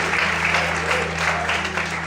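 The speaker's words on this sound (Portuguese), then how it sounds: "glorifique e aplauda ao Senhor essa noite, em nome de Jesus" Church congregation applauding during a service, a steady wash of many hands clapping at once, loud and sustained over a constant low hum, with some voices mixed in.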